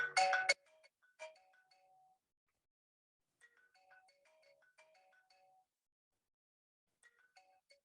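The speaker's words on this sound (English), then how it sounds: "That's my phone." A mobile phone rings outdoors on a city street, a short loud burst followed by a quiet electronic ringtone melody that repeats in faint, spaced phrases.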